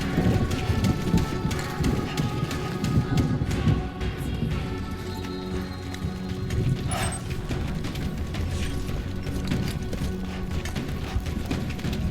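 Steady heavy rain with rolling thunder in the Death Stranding 2 video game, a dense continuous downpour with low rumbling throughout, loud and close, with no speech over it.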